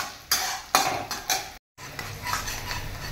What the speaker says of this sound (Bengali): এবার আমি একটু নাড়াচাড়া করবো এটাকে।